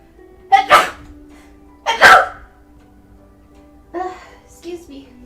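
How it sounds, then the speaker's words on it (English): Two sharp sneezes close to the mic, a second apart, followed by a couple of short vocal sounds. "Oh, sneeze."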